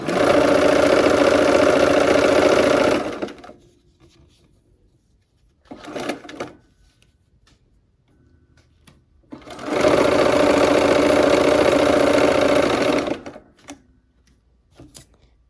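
A sewing machine stitches quilt-block seams in two steady runs of a few seconds each, separated by a pause with light handling noises.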